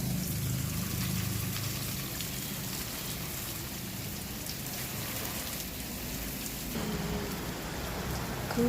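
Steady rain falls outdoors in a constant, dense patter of drops on surfaces, evenly loud with no break.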